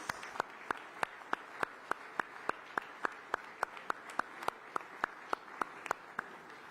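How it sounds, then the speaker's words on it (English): An audience at the B20 India Summit 2023 claps in unison, a steady train of evenly spaced, crisp claps, fairly soft and steady, with no talking. "a big round of applause for Prime Minister Narendra Modi"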